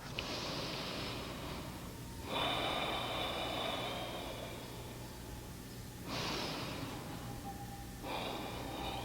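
Slow, steady breaths drawn in and let out during a held yoga pose, three long airy exhales and inhales alternating at an even pace, close and fairly soft with no talking.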